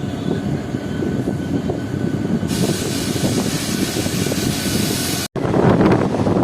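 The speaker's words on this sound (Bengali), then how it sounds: "আমাদের সব ক্রসিং হয়ে গেল Howrah town Medinipur local train." A Howrah–Midnapore fast local train runs with a steady loud rumble and wind rush throughout, a brighter hiss joining partway and a brief dropout near the end before the noise resumes.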